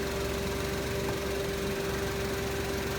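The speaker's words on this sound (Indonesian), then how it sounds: "Ketika kita nyalakan AC, suaranya masih terlihat, masih terdengar halus. Mesin ini normal" A used car engine idles steadily and smoothly with the air conditioning on, a constant mechanical hum with a faint whine, close and fairly loud.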